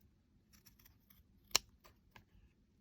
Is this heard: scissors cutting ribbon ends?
yes